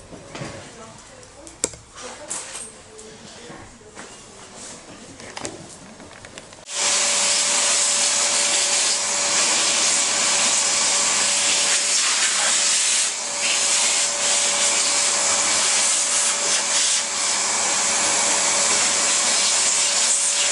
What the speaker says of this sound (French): On va aspirer tout ça.